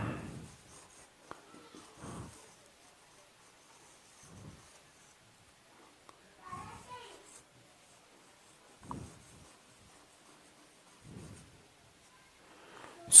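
Handwriting notes with a pen, soft faint scratchy strokes arriving in short separate bursts with quiet gaps between them, close and gentle against near silence.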